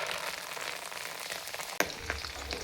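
Curry leaves crackle in hot oil for crunchy puffed-rice chivda, making a soft, close sizzle with one sharp pop near the middle and faint spattering after it.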